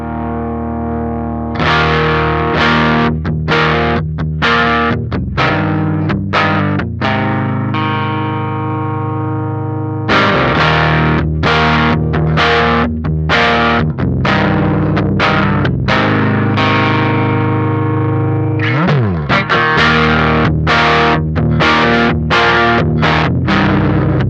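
An electric guitar runs through a Tallon Electric Dual Drive pedal with its level turned up, giving loud, distorted strummed chords and riffs in several bursts with brief pauses, played alone.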